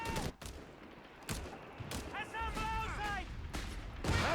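Rapid bursts of machine gun fire mixed with other gunfire and explosions in a Company of Heroes 3 match, with a caster talking over the battle.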